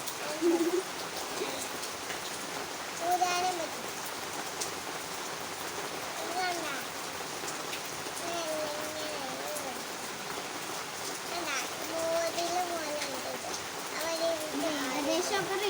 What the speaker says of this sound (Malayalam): നല്ല മഴയാണ് ഇവിടെ. അപ്പോൾ നല്ല സൂപ്പർ നല്ല മഴയാണ്.